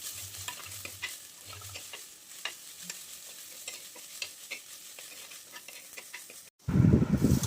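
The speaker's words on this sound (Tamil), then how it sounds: "இஞ்சி பூண்டு பேஸ்ட்டு போட்டுக்கலாம்." Ginger garlic paste frying in oil for a mutton curry, with soft sizzling and scattered scrapes and taps of a spoon stirring the pan, followed by a sudden louder, denser burst of sizzle near the end.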